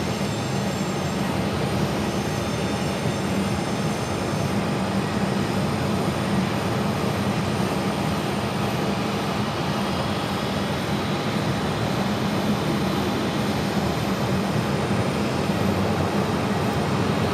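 WestJet Boeing 737 MAX 8 arriving from Vancouver at Phoenix Sky Harbor Airport, a steady low jet engine roar held at an even level throughout, with no voices.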